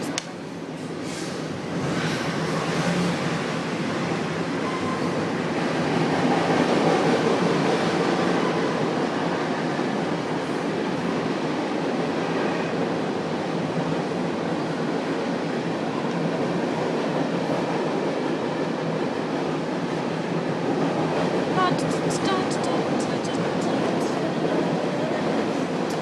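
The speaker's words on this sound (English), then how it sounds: "How long of a train is this?" A train rumbles past for a long stretch, heard through open balcony doors, a steady loud roar with rattling wheels and a squeal near the end.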